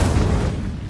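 An Incendio fire spell is cast in the video game Hogwarts Legacy, making a loud, dense burst of low rumbling, whooshing energy that holds steady for a second before easing slightly.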